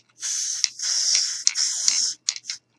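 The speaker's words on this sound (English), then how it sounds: "I'm going to take my spray adhesive that I have here" Spray adhesive hissing from an aerosol can while crafting a Christmas village in a cup, several sustained bursts of close, loud spray with brief pauses between them and a few short puffs at the end.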